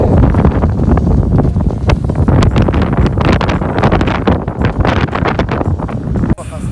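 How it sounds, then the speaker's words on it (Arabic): Strong wind in Dakhla buffeting the microphone with loud, rough, continuous rumbling gusts, while a person talks underneath. "كاين الريح بزاف."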